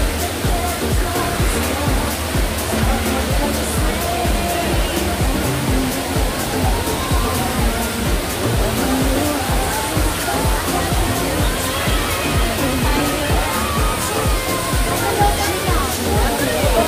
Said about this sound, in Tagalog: Kitang-kita yung falls.